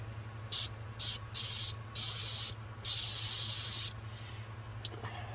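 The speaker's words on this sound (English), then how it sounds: "I'm going to start spraying" Thinned paint hisses from an airbrush onto a model car in several short bursts followed by one long steady spray, close and loud, with quiet pauses in between.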